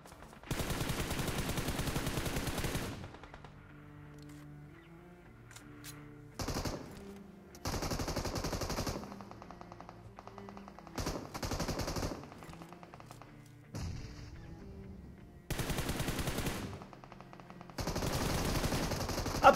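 Rapid bursts of automatic gunfire ring out during a squad fight in a battle royale mobile game, several loud bursts separated by quieter gaps with scattered single shots, and no talking.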